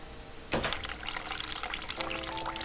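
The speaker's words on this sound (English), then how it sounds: "Turn the water on." Running water from a sink tap in The Cat Lady video game starts suddenly and keeps pouring steadily, a soft splashing stream.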